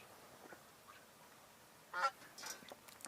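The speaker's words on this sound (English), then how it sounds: "Another Canada goose flying just about over our heads just now." A Canada goose honks while flying overhead outdoors, a few faint calls from a distance followed by a louder, closer honk near the end.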